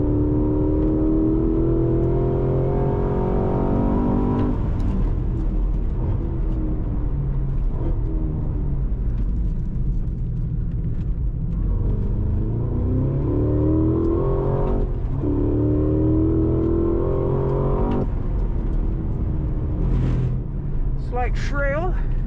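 A 2025 Cadillac CT5-V Blackwing Precision Edition held in third gear. Its engine roars loudly from inside the cabin, pulling up through the revs in several long rising sweeps, with brief dips between the pulls.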